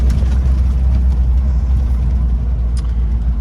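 A 1949 Willys Jeepster with a six-cylinder Lightning engine pulls away in second gear, giving a steady, close, loud low rumble with a smooth mid-range engine drone and no voices.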